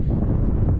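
Wind on a mountain summit in Victoria, Australia: steady, loud broadband buffeting against the microphone, continuous with no voices.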